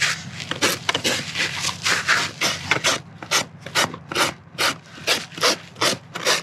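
A rasp files a horse's hoof during trimming, a steady run of rough back-and-forth strokes, about two each second, loud and close with no voices.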